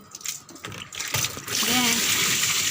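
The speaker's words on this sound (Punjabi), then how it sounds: "ਬਾਲਟੀ ਵੱਧ ਭਰ ਗਈ" Water gushes steadily into a container, the rushing hiss growing louder and fuller as it fills, with brief talking near the start.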